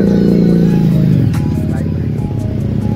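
A motorcycle pulls up close by, its engine rumbling with a falling pitch as it slows and settles into a steady idle, with a faint voice in the background.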